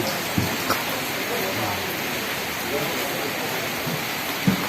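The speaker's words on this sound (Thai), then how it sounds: "ฝนตกห่ำพี่น้อง" Steady rain hisses evenly throughout at an annual temple fair in Chonburi, a broad wash of noise with a few faint knocks and muffled voices underneath.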